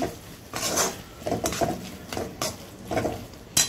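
A spoon stirs macaroni pasta with spices, chili flakes and oregano in a pot, making a run of about six rhythmic scraping, clinking strokes, close and moderately loud with no voices.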